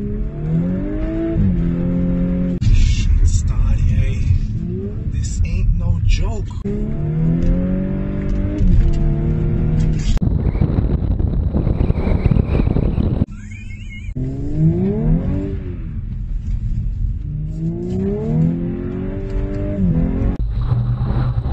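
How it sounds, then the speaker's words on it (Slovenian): An Audi S4 drives on ice with its engine roaring loud and close, revving up and dropping again in repeated climbing surges with short gaps between gear changes, and no talk over it. "Pa s kakšnim veseljem se avto dere"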